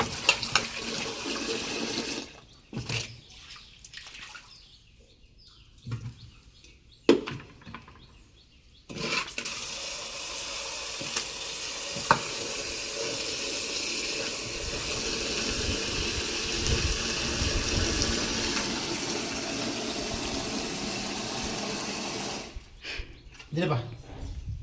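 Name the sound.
washing sweet corn under running tap water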